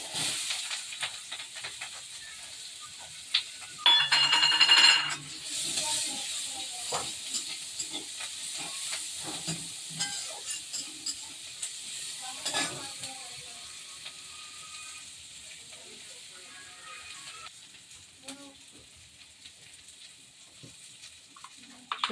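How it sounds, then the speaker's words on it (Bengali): Chopped onions and nigella seeds frying in hot oil, a steady close sizzle and hiss with a brief louder burst as they go into the pan, then softer crackling and stirring. "কালো জিরে দিয়ে দিলাম। কুচনো পেঁয়াজগুলো দিয়ে দিলাম।"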